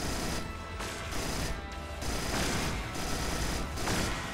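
Sentry guns in the sci-fi video game Cryptark fire in loud, sustained bursts of rapid gunfire with crashing impacts, pulsing in several waves across the whole stretch.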